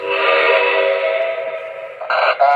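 A model train's whistle sounding loud and close in one long sustained blast, then two short sharp toots at the end, with no talk.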